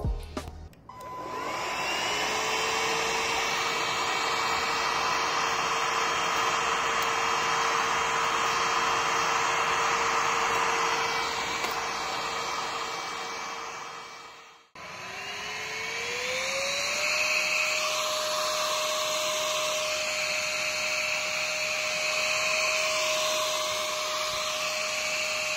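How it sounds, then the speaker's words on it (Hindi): A cordless battery-powered vacuum cleaner runs while sucking up debris, a loud steady whine that stops and restarts midway, with its pitch rising as it spins up and rattling bits drawn in. "चलिए इस वैक्यूम क्लीनर को अच्छे से खाना खिलाते हैं।"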